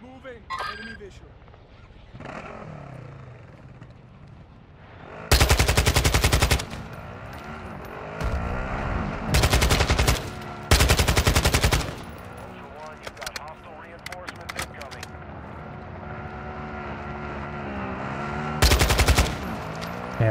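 Automatic rifle bursts in Call of Duty DMZ on Ashika island, several loud rapid-fire volleys spaced over time, with a player talking in between and underneath the shooting.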